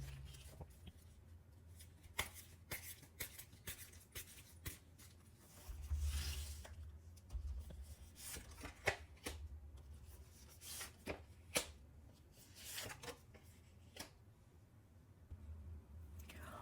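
Tarot cards are shuffled quietly before one is drawn, soft scattered flicks and slides with occasional sharper snaps over a long stretch, no talking.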